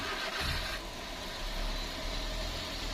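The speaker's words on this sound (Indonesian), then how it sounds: "dan coba saya starter ya." A Daihatsu Gran Max engine cranks and starts, then settles into a steady idle, heard up close with no talking.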